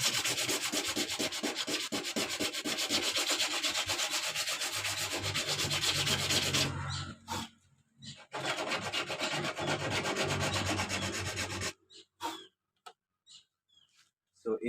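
Abrasive paper scrubs hard across an epoxy surfboard surface in a steady, close, rough back-and-forth rubbing, then stops and restarts before breaking off into scattered quiet scrapes.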